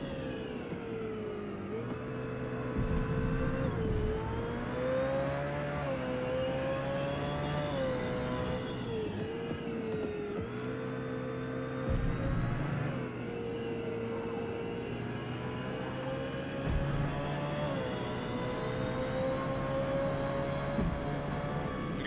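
Porsche race car engine in the Forza Motorsport racing game, a continuous droning roar rising and falling in pitch as it revs through gears, heard alone.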